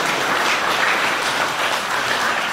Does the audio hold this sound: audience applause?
yes